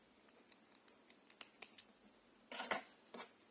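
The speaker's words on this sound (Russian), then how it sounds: "Вот эти вот от ручек ниточки обрежем" Scissors trim yarn threads left over from crocheted handles on a small toy dragon, a quick series of close, crisp snips followed by a louder cluster of cuts and one more snip near the end.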